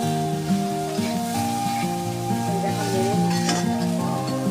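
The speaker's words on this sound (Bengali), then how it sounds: "এই যে বাঁধাকপি কড়াই তুলে দিয়েছি" Cabbage sizzles and crackles steadily in a hot wok, with occasional stirring scrapes and no voices.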